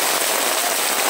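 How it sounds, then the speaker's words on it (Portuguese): Steady rain falls on surfaces in the city of Sobral, Ceará, a dense, even hiss of countless drops with no gaps, fairly loud and close. "é uma maravilha essa chuva"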